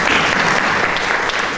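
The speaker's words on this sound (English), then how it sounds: "a round of applause for this one" Steady, dense applause from a conference audience at a financial inclusion event, loud and continuous throughout with no talk over it.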